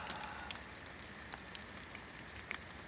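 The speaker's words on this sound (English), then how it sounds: "it's just straight up pouring down rain" Heavy rain pours down steadily outdoors, a dense, even hiss with faint scattered drips and taps over it, fairly quiet and uninterrupted.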